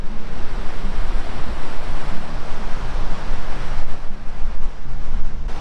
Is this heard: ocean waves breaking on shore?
yes